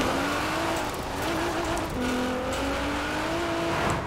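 Cars racing in the Forza Horizon 4 game, engines roaring near and loud with rising whines as they accelerate and tyres squealing, steady and unbroken for a few seconds.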